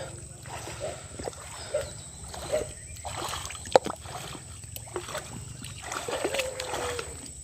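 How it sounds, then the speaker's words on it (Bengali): Fishing net hauled by two men through a tidal river at ebb, with soft water sloshing, splashes and a faint trickle, steady low boat-and-water rumble underneath, faint and close. "আমার বাবা আর মিলন ভাই দুজনে জাল টানছেন"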